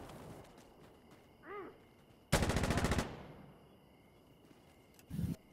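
A PKM machine gun in Insurgency Sandstorm fires one short, loud full-auto burst on a quiet night map, with a brief thump of game noise near the end.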